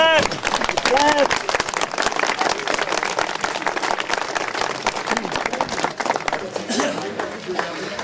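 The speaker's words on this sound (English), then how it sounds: "give a big clap" A school crowd at a flag hoisting ceremony breaks into sustained, lively clapping, with sharp individual claps over a dense mass of hands and voices talking over it.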